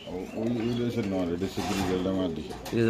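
Pigeons coo softly at a pigeon sale where birds are sold by the pair, with low, throaty calls mixed under someone talking nearby.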